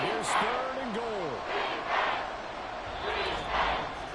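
A stadium crowd in an EA Sports football video game roars in steady waves at moderate distance, while a commentator talks over it.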